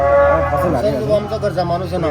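A cow moos loudly and close at the Dhule cattle market, one long drawn-out call wavering in pitch over a background of crowd murmur.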